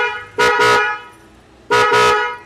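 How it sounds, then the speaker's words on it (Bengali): A pop horn fitted to a Suzuki Gixxer motorcycle sounds two loud, close double blasts, each a pair of quick tones, with a short pause between the pairs. "এটা হচ্ছে কায়ারের যে পপ হর্নটা আছে,"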